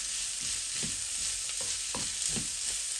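Onion frying in a pan while being stirred: steady sizzling hiss with soft scraping strokes from the spoon every half second or so, close and continuous, no talking.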